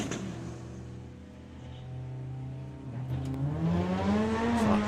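Drag racing doorslammer cars at a strip, engine drone that dips then builds as revs climb sharply near the end, a rising whine heard from a moderate distance.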